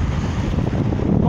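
Strong surf pounds a beach in Mozambique, a steady dense roar of breaking waves mixed with heavy wind buffeting the microphone, loud and continuous with no voices.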